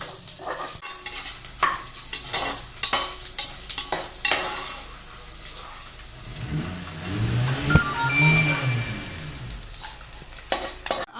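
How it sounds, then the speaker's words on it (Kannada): Almonds sizzle in ghee with cardamom and cloves in a pan, with a spoon clinking and scraping against metal in irregular strokes, then a fuller, steadier frying hiss toward the end. "ಬಾದಾಮಿನ ಕರ್ಕೊಳ್ಳೋಣ"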